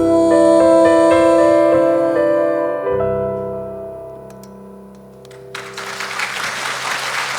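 Music by a duo fades out at a June book concert, then the audience answers with warm applause, a steady wash of clapping rising in the final seconds.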